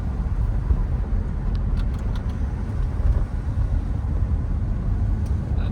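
A 2005 Cadillac STS4 Performance with 27k miles cruising on a road, its steady low engine and tire rumble continuous and even throughout, with no voices.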